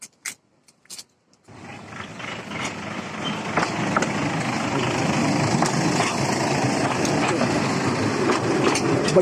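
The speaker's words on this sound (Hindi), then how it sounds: "बच्चों की ट्रेन है" A small children's train runs at the National Rail Museum, its engine rumble rising from near silence into a steady, loud mechanical drone after a few faint knocks at the start.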